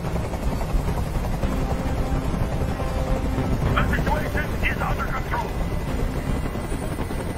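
Steady helicopter rotor drone from the video game Dead Rising fills the whole stretch, loud and continuous, with someone speaking briefly over it.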